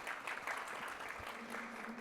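Brief, fairly faint applause from a forum audience, a short patter of claps lasting about two seconds.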